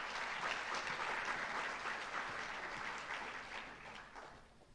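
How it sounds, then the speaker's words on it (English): Sustained audience applause at a senior awards night, steady dense clapping from a crowd that fades slightly toward the end, with no talking over it. "I wanted to say one more round of applause"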